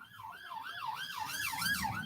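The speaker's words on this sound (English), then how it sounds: "Police car with its siren on going past." A police car's wailing siren sweeps up and down steadily as the car passes along a city street, growing louder toward the end, with faint traffic rumble beneath.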